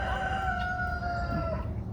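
A rooster crows on a farm near a brush-pile perch where chickens gather, a single drawn-out cock-a-doodle-doo that rings clearly over quieter clucking and a soft outdoor background.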